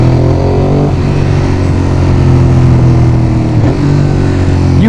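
Ducati Monster 821 L-twin engine revving steadily and loudly up close, a deep throbbing drone with brief dips in pitch around one and four seconds, heard alone.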